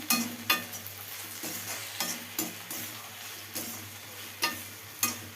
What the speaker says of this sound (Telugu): ఉప్పు వేసుకుని ఇలా కలుపుకోండి